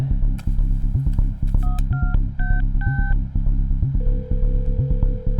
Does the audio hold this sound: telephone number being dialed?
yes